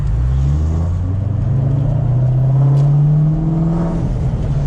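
A Ford Mustang Terminator Cobra drives steadily, its engine rumbling close and loud and rising in pitch as it pulls through the gear, with no talking over it.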